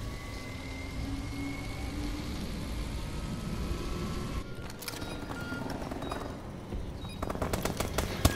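Video game gunfire during a clan scrim, with rapid automatic bursts rattling over a steady engine-like drone that grow denser and louder toward the end.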